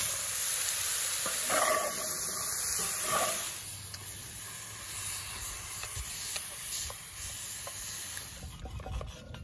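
Beef and onion sizzling in a pan over a campfire, a loud close hiss with crackles that settles into a softer steady fry, with occasional stirring scrapes.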